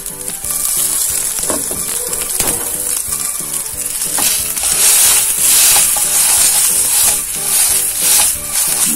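A hamburger patty frying in a pan, loud continuous close sizzle and crackle with a bright hiss throughout, no voices.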